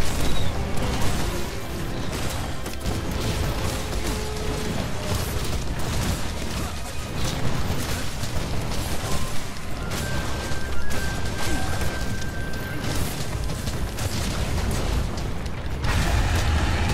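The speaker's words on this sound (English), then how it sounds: "Bombs." Bombs exploding in Monster Hunter World Iceborne during a Rathian hunt, a dense continuous barrage of crashes and booms, loud and unbroken throughout.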